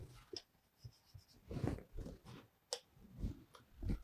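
A pen or marker writing out a physics equation makes quiet, close scratching strokes and taps in short irregular bursts, with small pauses between strokes.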